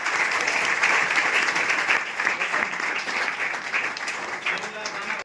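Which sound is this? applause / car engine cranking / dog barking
applause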